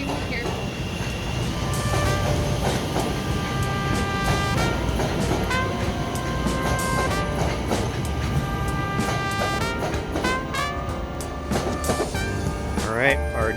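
A Chicago CTA Purple Line express train runs past toward Linden, a loud, continuous rumble with a steady metallic clatter and high squealing tones throughout, heard close by with no pause.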